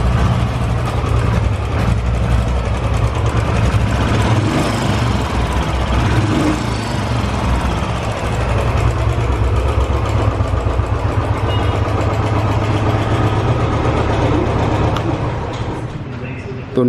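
Royal Enfield Bullet Standard ABS motorcycle idling, a loud, steady, thumping engine note held close for the whole stretch, easing slightly at the end.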